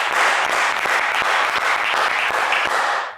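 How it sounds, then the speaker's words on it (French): Game-show studio audience applauding a contestant, a dense steady wash of clapping with a few sharp individual claps standing out, loud and sustained throughout with no talking. "Allez, on vous applaudit"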